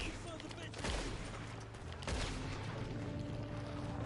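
Gunshot headshot in a canyon firefight video game, with two sharp gunfire reports near 0.9 s and 2.1 s over steady game background noise and low music.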